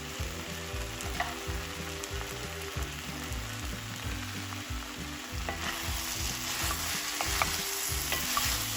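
Sweet potato pieces fry in a pan with a continuous, dense sizzle and occasional soft stirring scrapes, steady and close, over a low background hum.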